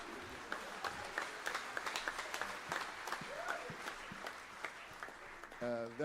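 A congregation claps during a Sunday church celebration service, a quiet but continuous spread of hand claps with scattered sharper hits, ending in a brief burst of louder sound near the close.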